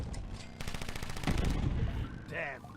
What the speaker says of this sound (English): So first off, you get guns!